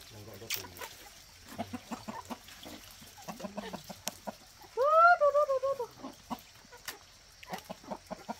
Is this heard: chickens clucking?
yes